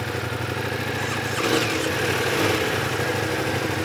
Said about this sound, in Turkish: Gel deneyelim motorumuzu bakalım, çalıştıralım.